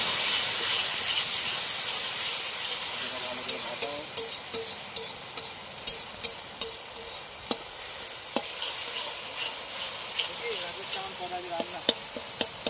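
Loud, steady sizzling and hissing from a hot pan as water is added to ginger-garlic paste and spices during outdoor cooking, with sharp clicks and scraping as the mixture is stirred.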